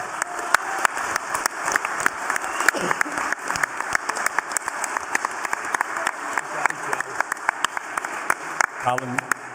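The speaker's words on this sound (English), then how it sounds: "I'd like everyone here to give Callum Smith an applause" Applause from a press conference crowd greets boxer Callum Smith during fight week in Liverpool, a steady patter of hand claps running throughout alongside sharp camera-like clicks, with a voice briefly surfacing near the end.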